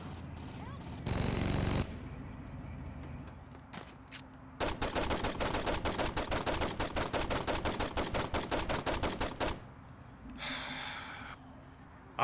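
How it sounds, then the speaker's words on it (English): Rapid automatic gunfire in Saints Row 2, a long rattling burst of evenly spaced shots aimed at an explosive, preceded by a shorter blast, with a player's breathy voice heard around it. "How many times do I gotta shoot this explosive?"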